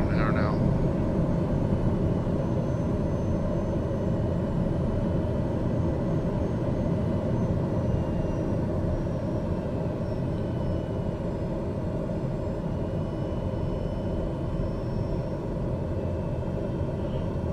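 Cabin of a Daher TBM 930 turboprop landing on a runway at Cold Bay, Alaska, a loud steady engine and airflow rumble droning throughout with no let-up, no voices over it.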